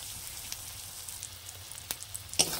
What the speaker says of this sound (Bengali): ওর মধ্যে কষে রাখা আলুগুলো দিয়ে দেব, দিয়ে ভালো করে কষিয়ে নেব